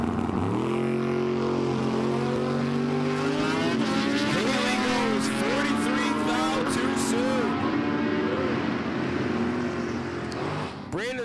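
A '55 Bel Air and a motorcycle launch side by side at a drag strip, engines roaring loud and close, rising sharply as they pull away with a steady, sustained snarl and fading slightly at the end.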